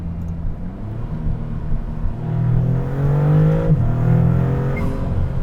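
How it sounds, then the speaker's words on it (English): A 2024 Maserati MC20 Cielo with a twin-turbocharged V6 pulls hard, a deep rumbling engine note climbing in pitch with strong turbo intake whoosh, then easing off as the throttle lifts, loud and close. "violent sucking in of air and then the blow-off valves when you let off the gas"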